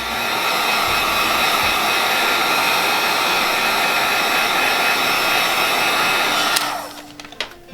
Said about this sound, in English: Use my heat gun.